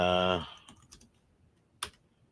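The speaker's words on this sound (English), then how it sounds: "As I'm typing over here" Computer keyboard typing comes in as a few scattered, fairly faint keystroke clicks and one sharper tap, following a brief burst of a voice at the start.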